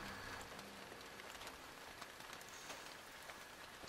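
Rain falls in the World of Tanks video game as a faint, steady patter with scattered light drop ticks, heard alone without voices.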